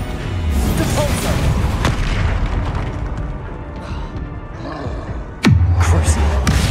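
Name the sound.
Depulso spell cast in video game Hogwarts Legacy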